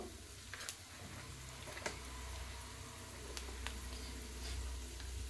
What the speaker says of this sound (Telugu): ఇవి మంచిగా ఫ్రై కావాలి